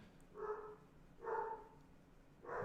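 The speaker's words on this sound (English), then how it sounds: "I hear barking." A dog barking three times at an even, unhurried pace, moderately distant and fairly quiet, with no other sounds around the barks.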